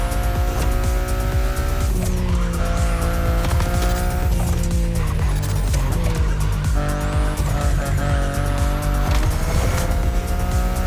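A BMW i8 in the racing video game The Crew Motorfest roars continuously with shifting engine pitch and repeated tire squeals and skids, loud and close throughout.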